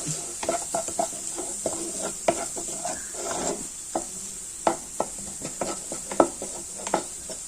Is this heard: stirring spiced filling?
yes